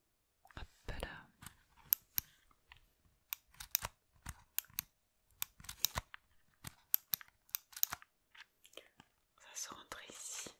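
Small game card handled and pushed into a Nintendo DSi, close quiet clicks and plastic taps scattered irregularly, with soft whispering between them.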